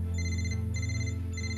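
A phone ringtone sounds in repeated electronic trilling bursts, about three rings in quick succession over a low steady hum.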